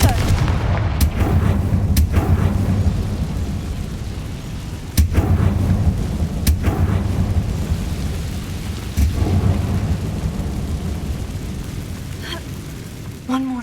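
Confringo spell blasts in the Hogwarts Legacy video game strike repeatedly, several sharp, booming impacts spaced a second or two apart over a continuous rumbling, rain-like background.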